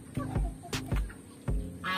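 Chickens and geese calling and honking in short bursts while feeding, a few brief squawks spaced across the moment, close by over a steady background hum.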